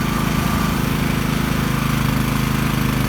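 A KWA water pipe joining machine runs with a steady, loud mechanical hum and low motor drone, continuous and close throughout with no voices.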